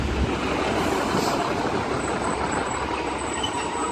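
A multi-unit passenger train of Class 150, 137 and 145 units pulls out of Dewsbury station on the Huddersfield line toward Leeds, a steady close rumble of engines and wheels with a faint high whine.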